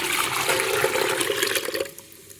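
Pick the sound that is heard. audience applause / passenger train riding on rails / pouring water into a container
pouring water into a container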